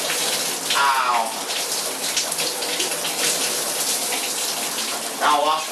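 Water runs steadily during a shower wash, a constant hiss of spray with a couple of brief squeaky rubbing sounds over it; no clear talk.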